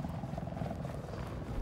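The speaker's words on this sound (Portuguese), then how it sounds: "Ah lá, a gente já espotou um helicóptero." Helicopter in Battlefield 4, a steady low rotor and engine drone that holds level and fairly faint throughout the brief stretch.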